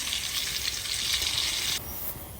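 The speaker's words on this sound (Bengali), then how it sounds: "তো মাছগুলো আমি ভেজে নিচ্ছি।" Tilapia fish frying in hot oil in a pan: a dense, even sizzle that suddenly drops to a quieter crackle partway through, close by, with no one speaking.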